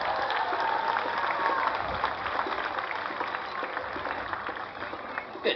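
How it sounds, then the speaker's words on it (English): An audience applauds steadily at a tiger show, a broad, even patter of many hands clapping at middle distance for about five seconds, with no voice on top. "Let's hear it for Odin."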